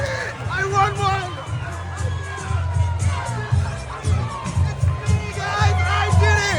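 A crowd cheers and shouts loudly at a breakdance battle in Long Beach, a dense, continuous roar of voices with a few individual shouts rising above it.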